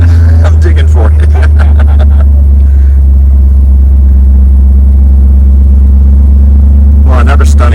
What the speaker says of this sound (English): Nice exhaust.